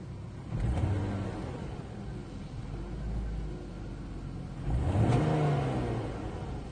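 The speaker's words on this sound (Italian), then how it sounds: "Se io do gas affondo tutto, la macchina gira male." Car engine with an ignition coil fault causing misfires, revved hard under full throttle in two bursts, running rough with an uneven rumble between rises, heard fairly close.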